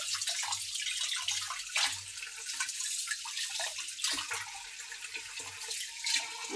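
Tap water runs steadily over sacrificial meat being washed in a kitchen sink, a continuous hissing splash with small shifts as the pieces are handled.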